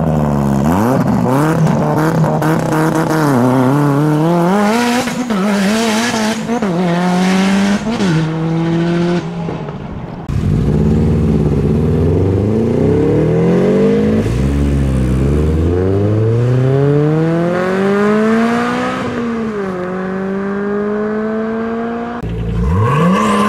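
A modified Subaru tuner car leaves a car show at full throttle, its engine revving hard through repeated rising sweeps and gear changes with sharp drops between them, loud and close throughout.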